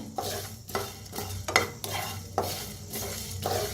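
Spices and chillies dry roasting in a pan for sambar, stirred with a spoon in rhythmic scraping passes about every second, with faint crackle underneath, close and moderately loud, no talking.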